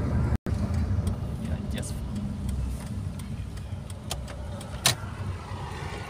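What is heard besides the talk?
car driving on the road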